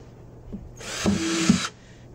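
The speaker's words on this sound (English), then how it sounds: "I'm just going to drill like 3 or 4 holes down here" A power drill whirs briefly for under a second, boring through a plastic bucket, with a faint mechanical clunk before and after.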